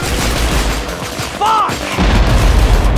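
A grenade goes off in the prison shooter Escape From Butcher Bay, a loud booming blast among ongoing gunfire and combat noise, with a shouted voice briefly over it.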